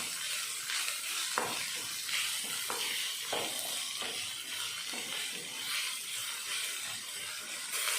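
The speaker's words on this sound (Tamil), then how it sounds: "சின்ன சின்னதாக கட் பண்ண வெங்காயம், கறிவேப்பிலை, ரெண்டு நிமிஷத்துக்கு வெங்காயத்தை வதக்கிடலாம்." Chopped onions and curry leaves saute in a pan with a soft, constant sizzle and occasional light stirring scrapes. The sound is fairly quiet and nobody talks.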